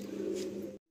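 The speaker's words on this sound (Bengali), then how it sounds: "এ খুব ফেমাস পায়রা" A Mechua pigeon, a well-known breed, gives a single sustained low coo close by, then it cuts off into near silence.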